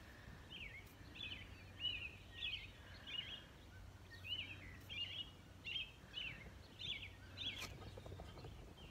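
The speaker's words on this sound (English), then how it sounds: "Make the sound again, little bird." Small bird calling outdoors on a farm, repeated short high chirps in bursts across the clip, moderately close, over a steady low hum.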